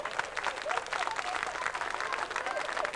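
A crowd claps steadily in a comedy setting, a busy low-level patter of many hands with faint voices threaded through.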